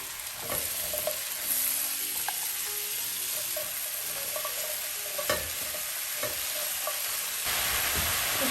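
Mushrooms fry in a hot pan with a steady broad sizzle, while a utensil stirs them in intermittent scraping strokes close by; no talking.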